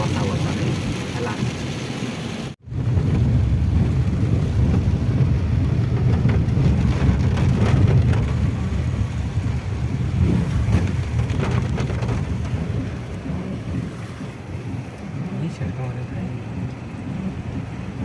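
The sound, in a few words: rain falling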